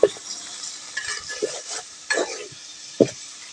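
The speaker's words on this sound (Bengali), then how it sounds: "গরম তেলে এটাকে এবার একটু ভেজে নেব মাংসটাকে।" Beef seasoned with turmeric stirred and fried in hot oil, a soft steady sizzle broken by several sharp spoon-and-pan scrapes, close and moderately loud with no talk.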